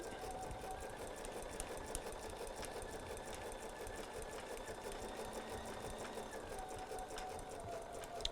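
A sewing machine stitches a fabric appliqué in a steady, continuous mechanical whir with a fine rapid needle rhythm, even and moderately quiet throughout.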